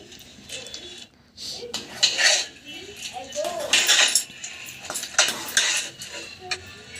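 A metal spoon scrapes and clinks against a pot while chole curry is stirred with boiled chickpeas, giving an irregular run of close scraping and knocking strokes with brief pauses between them.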